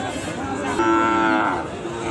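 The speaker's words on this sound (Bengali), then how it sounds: "অনেক অনেক গরু আছে" A single long, low moo from a cow, close and loud, over a background of murmur at a cattle market in Raniganj selling Sahiwal bulls and calves.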